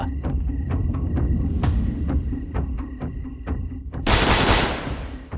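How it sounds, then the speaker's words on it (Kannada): Rapid bursts of gunfire ring out as a sound effect in an action audio drama. Regular, evenly spaced loud shots run over a low rumble and end in a louder, sustained blast of noise. "ಕರಿಷ್ಮಾ ಶೂಟ್ ಮಾಡೋ ಸ್ಟೈಲ್ ನೋಡಿ ವಿಕ್ರಮ್ ಶಾಕ್ ಆದ."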